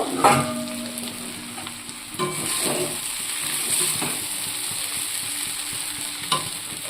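Flattened rice (chira) is stirred through in a pan for chira polao, with steady dry scraping and tossing over a soft sizzle and a few sharper knocks.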